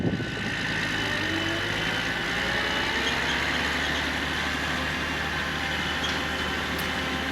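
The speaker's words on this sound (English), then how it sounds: "it's time to sit on the tractor for a bit and go around in circles." A tractor planting wheat across a dry, dusty field gives a continuous, even engine drone with a steady rumble, running alone and fairly close.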